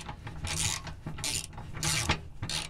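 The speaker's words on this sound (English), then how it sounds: "Now you just tighten these back down, and you just want to snug them up." Ratchet snugging oil-change bolts back down on a 2013 Ford Raptor 6.2L, several bursts of close, rasping clicks in quick succession with brief pauses between strokes, alone without speech.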